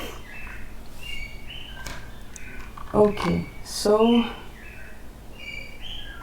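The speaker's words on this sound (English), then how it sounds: "You probably can hear birds chirping." Small birds chirp and tweet outdoors in short, scattered calls at a moderate distance, mixed in with a person talking nearby.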